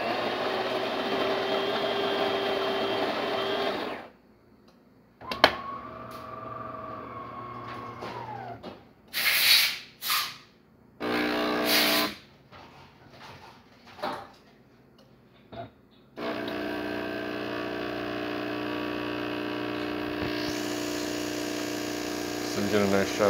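A Delonghi Gran Dama espresso machine pulls a shot: a steady pump hum and drone, then a pause with clicks and short hissing bursts, before the loud pump whir resumes near and steady.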